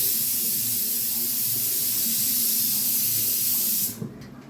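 A pressure cooker vents steam after its final whistle, a loud, steady hiss that runs unbroken for about four seconds and then cuts off abruptly, leaving faint sputtering.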